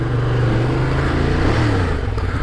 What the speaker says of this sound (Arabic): موتوسيكل رايق دوكات الديافل ده